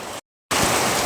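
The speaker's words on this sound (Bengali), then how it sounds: "এই যে বললাম না অনেক জোরে বৃষ্টি হবে একদম ঝুম বৃষ্টি শুরু হয়ে গিয়েছে" Heavy rain pours down in a village, a dense steady roar that cuts out briefly and then resumes loud and close.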